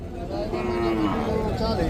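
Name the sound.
buffalo at cattle market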